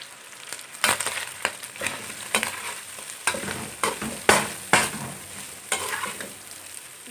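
Vegetables frying in oil for chicken macaroni, a continuous close sizzle broken by sharp scrapes and knocks of a spoon stirring the pan every second or so.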